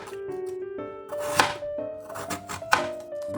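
A knife thinly slices an onion for a salmon fillet dish, giving a couple of crisp board thunks among light cutting sounds while a tonal background melody plays.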